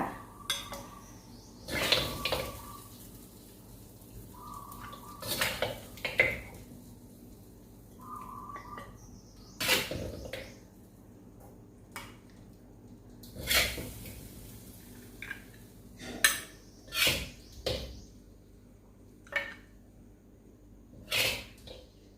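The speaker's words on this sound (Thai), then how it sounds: "ตอนนี้เราก็ตักเสิร์ฟได้เลยค่ะ" Stir-fried pork ribs with holy basil are scooped from a pan onto a serving plate, giving scattered sharp clinks and scrapes of utensil on metal and dish. The knocks come irregularly over twenty seconds, close and fairly quiet, with no speech.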